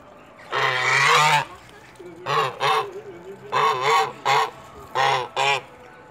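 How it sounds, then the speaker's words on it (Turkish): Geese honk loudly and close by in a run of repeated calls, a long burst followed by paired honks in an uneven rhythm, with a low droning bird noise between them. "Tabi bütün kuşlar burada."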